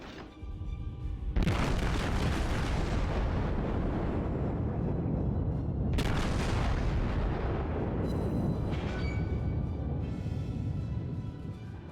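Battleship main guns fire in the World of Warships video game as two huge, close booming salvos, each followed by a long rumbling roar that carries on between and after the shots.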